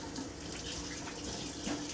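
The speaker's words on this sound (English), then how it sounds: "Wash the hands." Water runs steadily from a kitchen tap as hands are rinsed under it while cooking, a continuous close hiss with faint splashing changes and no talk.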